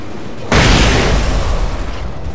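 A flashbang goes off in the video game Alan Wake, a sudden loud boom followed by a sustained bright hiss and rumble that slowly fades over the next two seconds, with no talking.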